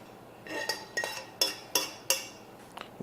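A spoon stirs stuffing with breadcrumbs in a bowl for a turkey dish. About five crisp, evenly spaced scrapes and clinks against the bowl are heard up close, with no talking.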